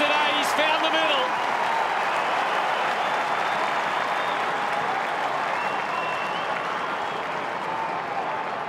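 A large stadium crowd at a 2003 AFL Round 19 match between Collingwood and the Brisbane Lions roars and applauds, with the Lions cheer squad cheering in a dense, sustained wash of noise that stays loud throughout.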